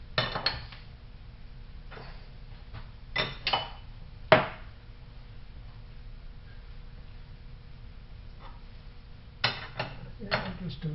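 A cutting tool is clamped in place in the clapper box of a metal shaper, giving a few sharp metallic clicks and knocks spaced over a low steady hum, close and moderate in level.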